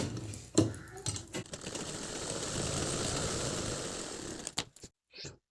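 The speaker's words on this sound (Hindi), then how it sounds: "अब हम इसकी सिलाई लगाएंगे यहाँ से।" A sewing machine stitches a strip of fabric for a collared blouse with full sleeves, a steady close whirring run lasting several seconds, with a few brief knocks and handling clicks around it, then stopping near the end.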